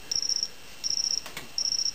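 An adjustable electronic device mimicking a cricket gives three evenly spaced bursts of shrill, steady high-pitched chirping, each about a third of a second long, clear and close against quiet background hiss.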